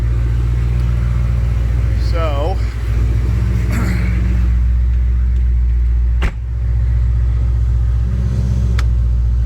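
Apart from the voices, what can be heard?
turbo Corvette engine running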